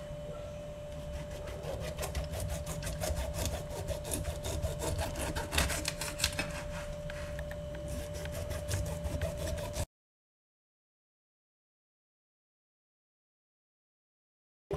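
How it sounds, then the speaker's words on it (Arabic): A knife cuts the skin off a pineapple from top to bottom, making repeated rhythmic scraping and rasping strokes close up for about ten seconds before the sound stops. "ودابا غادي نزولوا القشر من الفوق لتحت"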